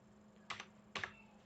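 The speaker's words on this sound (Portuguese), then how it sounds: "Eu tô digitando isso aí toda hora." Keystrokes on a computer keyboard while programming in Lazarus Pascal, two short bursts of a few clicks each, close and fairly quiet, with no talking.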